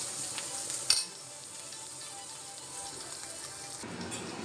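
Food frying in a pan gives off a steady, bright sizzling hiss, with a sharp clink of utensil against the pan near the start and quiet stirring as it continues.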